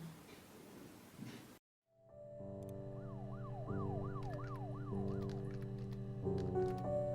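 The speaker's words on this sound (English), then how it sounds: "if we're hearing police sirens" Police sirens inside the video game Her Story, wailing and cycling steadily after a brief silence, layered with engine-like drones and game sound at moderate loudness.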